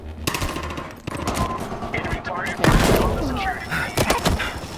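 Automatic gunfire from a Battlefield Hardline multiplayer match, with dense machine-gun bursts and heavy shots rattling through the whole stretch. Someone talks over the loud, continuous fire.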